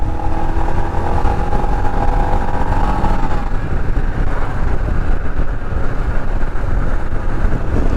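Royal Enfield Himalayan motorcycle being ridden, its engine droning steadily under heavy wind rush throughout, a faint tonal whine easing off partway through, no talking.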